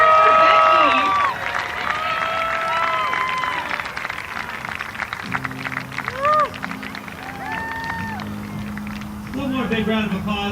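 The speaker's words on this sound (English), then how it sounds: "One more big round of applause for our Hall of Fame inductees and Becky Burnside" Crowd applause and cheering for a Hall of Fame inductee and spirit award winner at an ultimate frisbee game, a dense, steady roar of clapping and voices from a large audience with a public-address voice over it.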